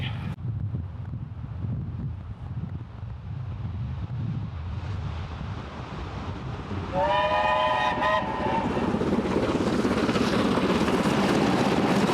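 A steam locomotive passes at Tilstock with a steady, loud rumble that swells midway. A whistle sounds partway through, and the heavy rolling noise continues close by to the end.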